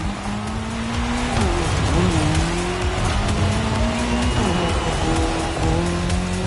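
A car racing on a course shared with a KTM motorcycle, engine loud and close with rising and falling revs through gear changes and some tyre squeal.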